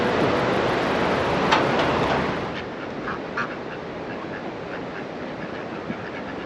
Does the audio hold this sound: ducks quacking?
yes